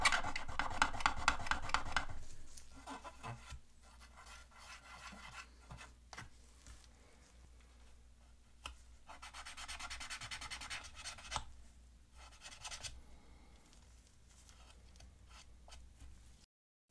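Cotton swab wet with isopropyl alcohol scrubbing a stubborn spot on an NES console shell, a close, dry rubbing rasp in bursts, loudest at the start, then quieter intermittent strokes with brief pauses.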